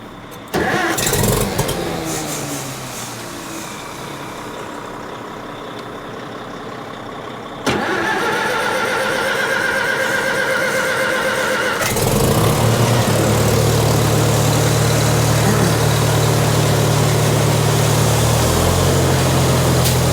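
A small gasoline engine sputters after being choked, then catches and revs up into a loud, steady running drone that continues to the end.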